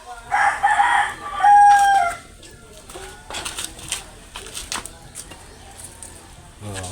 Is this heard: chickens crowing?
yes